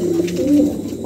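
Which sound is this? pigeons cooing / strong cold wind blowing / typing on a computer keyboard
pigeons cooing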